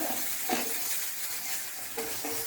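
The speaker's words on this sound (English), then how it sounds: "Along with that, I'll be putting the onion, and I'll just give it a lightly stir." Chopped onion with green chili is given a light stir in a hot pan. The sizzle is soft, and a couple of brief scraping strokes stand out.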